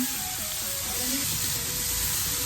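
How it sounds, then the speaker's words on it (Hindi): Red chillies fry with spices and vinegar in a pan over a medium flame, giving a steady, close, crackling sizzle throughout, with a voice speaking faintly beneath it. "इसे हमें 5 मिनट तक मीडियम फ्लेम पे भूनना है।"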